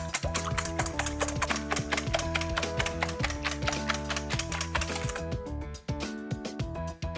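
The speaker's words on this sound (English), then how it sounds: "And now let's whisk this." Beaten eggs seasoned with salt are whisked in a bowl, making rapid, even clinking taps over steady background music, before a brief pause and a few more strokes.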